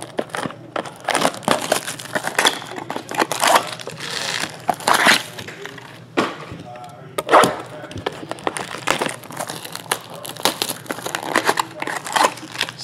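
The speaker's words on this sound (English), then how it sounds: "Trash bag was full, smashed it all the way to the bottom." Trash in a full bag is smashed down to the bottom, giving dense crinkling, crushing and plastic rustling with sharp cracks in irregular bursts, close and fairly loud, with no voice over it.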